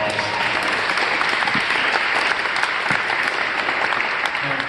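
A town hall crowd at an e-bike safety meeting keeps up a full, even round of applause, loud and continuous from start to finish.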